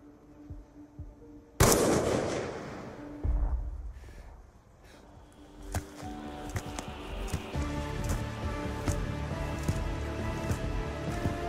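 Video game headshot: a sudden sharp gunshot crack that rings out and decays, followed by heavier thuds and rumbling impacts, then a busy layer of game sound effects and music.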